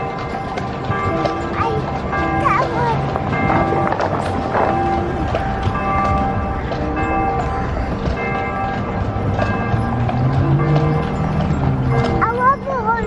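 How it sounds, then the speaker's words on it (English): Horse hooves clip-clop steadily on Monument Circle in Indianapolis at Christmastime, under a busy crowd with voices talking and bells ringing in the background. "I love the horsey."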